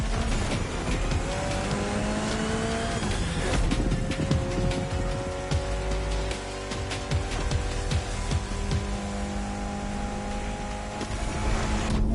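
A race car engine roars in the driving game The Crew Motorfest, with rough broadband tire squeal and scraping through hard turns. The loud engine runs steadily without a break.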